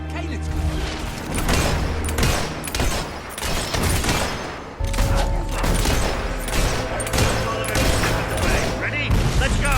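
Battle gunfire and mortar fire in Fable III: dense, loud, continuous volleys of shots and booming impacts rolling on without pause, a chaotic battlefield din with game voices mixed in.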